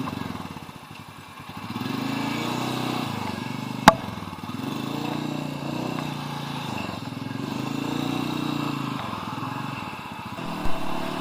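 A Royal Enfield Meteor 350 motorcycle idles and revs with a low, thumping single-cylinder exhaust note, rising and falling over a steady pulsing rumble, with a sharp click partway through.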